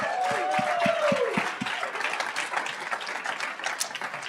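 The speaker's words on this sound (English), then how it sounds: "So we also need to give a round of applause" Audience applause at an accelerator demo day, dense clapping with a few sharp claps near the start, while a sustained tone fades out under it, holding steady and fairly loud before easing slightly.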